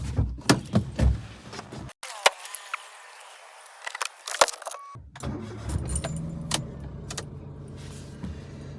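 A Maruti Alto 800 hatchback being entered and started: door clunks and key jingles, a short quiet pause, then the small engine cranks and settles into a low steady idle under intermittent interior clicks and knocks.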